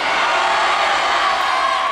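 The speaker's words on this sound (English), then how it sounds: "everybody scream their name real loud." A large audience at a youth talent event yells loudly all at once in a dense, sustained wall of overlapping shouts and cheers with no clear individual words.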